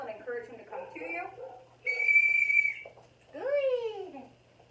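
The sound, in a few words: whistle blown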